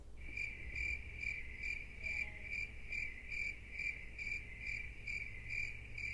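Crickets chirp as a sound effect, a steady, evenly spaced pulsing trill repeating throughout, fairly faint and alone with no talk.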